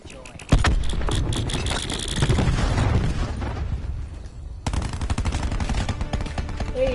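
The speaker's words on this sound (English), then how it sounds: "Cluster grenade. Enjoy." Cluster grenade explosions in Call of Duty gameplay: a sharp blast followed by a rapid rattle of repeated bursts, then a second loud sequence of crackling detonations, with game sounds filling the background.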